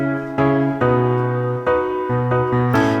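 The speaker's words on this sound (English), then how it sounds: "So first you have like this 90s piano sound" Pop piano from a Reason Radical Piano American Pop Piano patch with a 90s feel plays a short sequence of sustained chords, each change struck clearly and loud, with no voice over it.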